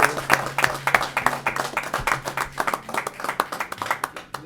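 Applause from a small group at a planning commission meeting honoring 20 years of service, with distinct hand claps repeating in a loose, steady patter close by throughout.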